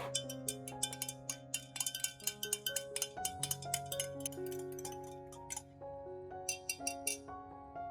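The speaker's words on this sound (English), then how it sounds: "Stir well." A glass of agricultural lime water stirred with a spoon gives a fast, rhythmic run of bright clinks against the container, close and clear over soft background music, with a short pause partway through.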